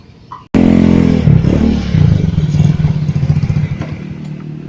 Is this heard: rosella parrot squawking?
no